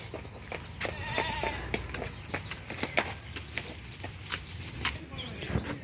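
Goat bleats at a farm with livestock around, several short bleats scattered over steady outdoor background noise, with people talking and small knocks nearby.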